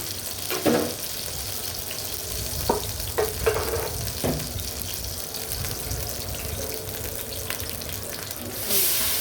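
Rice frying in ghee for biryani, a steady close sizzle with occasional stirring scrapes and clinks throughout, no talking.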